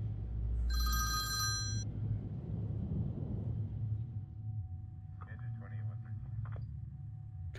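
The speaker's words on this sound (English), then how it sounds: "Now, why would the phone be ringing?" A cell phone ringing in a house in a horror short, one bright electronic ring burst near the start over a low rumble, followed later by fainter short tonal chirps.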